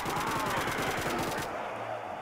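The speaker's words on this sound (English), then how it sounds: "let's try the AK now" An AK rifle in the Roblox game Resurrection fires a rapid, evenly spaced automatic burst of about a dozen loud shots, then cuts off into near quiet.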